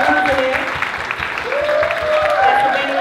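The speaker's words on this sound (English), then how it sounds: "Go ahead and start clapping." An audience clapping at a live youth poetry showcase, a steady wash of crowd applause under a loud voice shouting over it throughout.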